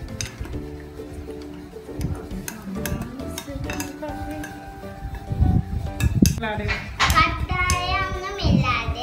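Cocoa powder being mixed into pudding in a bowl, with clinks and scraping of a spoon against the dish in an uneven rhythm, close by, while someone talks over it.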